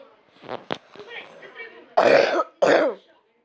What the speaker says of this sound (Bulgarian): Вече само кашлям, преди се задуших